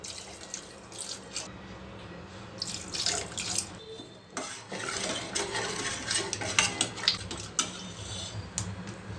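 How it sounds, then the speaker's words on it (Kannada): Boiled, cooled milk poured into rasam in a home kitchen, a steady liquid splash and trickle running throughout with small clinks of utensils, close and moderately loud, no talking. "ಇದಕ್ಕೆ ಹಾಲು ಹಾಕ್ತೀನಿ. ಕಾಯಿಸಿ ಆರಿಸಿರೋ ಅಂಥ ಹಾಲು."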